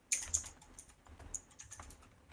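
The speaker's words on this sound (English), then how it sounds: "You're faster at typing than I am." Quick typing on a computer keyboard during an FPV drone podcast, a short burst of light clicks at the start thinning into scattered, faint keystrokes over low room noise.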